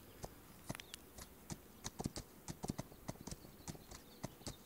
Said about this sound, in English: Ooh, wild horses.